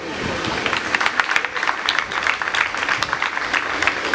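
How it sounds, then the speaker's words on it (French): An audience applauds at a theatre show set to slam and music, with continuous clapping and crowd noise swelling throughout and a voice speaking over it. "vous allez acclamer, je pense"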